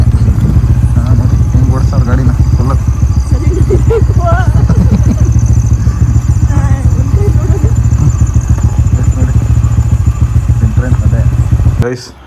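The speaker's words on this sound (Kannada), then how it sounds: "ನಮ್ಮಮ್ಮ ಗಾಡಿ ಓಡಿಸ್ತಾರೆ" A motor scooter ridden along a road during the Ganesha festival, its engine droning steadily and loudly under constant wind rumble from start to end, cutting off abruptly at the very end.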